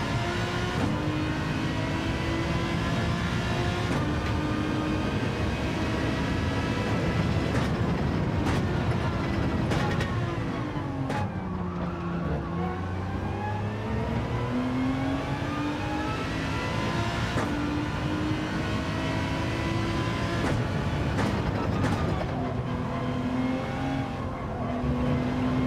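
GR3 race car engines in Gran Turismo 7 lobby racing, loud and continuous for the whole stretch, with rising and falling revs, repeated gear changes and layered engine tones from several cars running close together.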